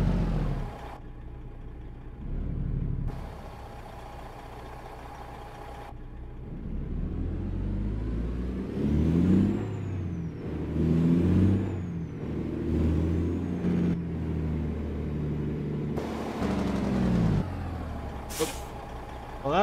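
A Kenworth W900 truck with a Cummins ISX engine in American Truck Simulator rumbles and revs with a deep, steady drone, cut by sharp bursts of air brake hiss and swelling engine surges, heard close and loud without talk.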